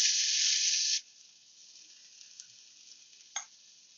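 Diced shallots hitting a hot pan of bacon fat, a loud steady sizzle for about a second that then drops to a quieter ongoing hiss, with a brief utensil clink near the end.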